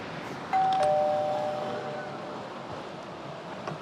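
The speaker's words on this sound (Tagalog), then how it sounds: "Teka, mag-doorbell ako." A doorbell chimes once at a house, a clear ringing tone that fades over a few seconds against faint outdoor background noise.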